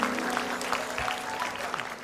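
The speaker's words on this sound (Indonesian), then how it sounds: "Wow, tepuk tangan dulu." A studio audience at an Indonesian comedy show claps in a steady, dense burst of applause lasting a couple of seconds, moderately loud and without speech.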